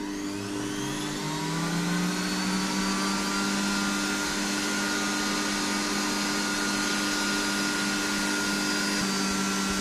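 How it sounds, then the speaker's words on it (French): A micro vacuum cleaner with a particle filter and small brush nozzle runs continuously over the surface of a 1480 incunable book in a library, a steady close whine that rises slightly in pitch early on, with no talking. "on va aspirer sa surface à l'aide d'un micro-aspirateur muni d'un filtre à particules et d'un petit embout en forme de brosse"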